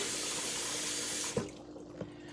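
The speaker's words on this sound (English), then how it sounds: "Let me wash this off real quick." Water runs steadily from a kitchen sink tap while a knife is rinsed under it during cooking, with a couple of brief clatters as the blade shifts partway through.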